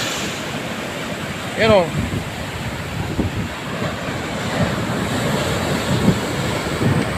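Big ocean waves near Sulangan lighthouse make a steady, continuous roar, with a brief voice cutting in early.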